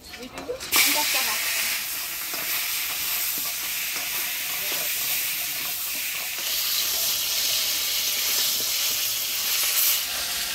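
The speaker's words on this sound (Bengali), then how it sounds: "এবার ভাজে নিব মাছের মুড়োটা আগে ভাজে নিব" A fish head frying in hot oil, a loud steady hiss and sizzle that starts abruptly and carries on throughout, close up, with faint stirring clatter underneath.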